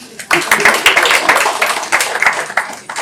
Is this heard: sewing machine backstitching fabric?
no